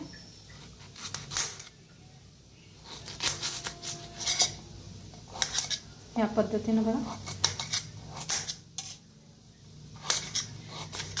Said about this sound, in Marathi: ती थंड होईस्तोवर आपण वांगी बटाटू कापून घेऊया।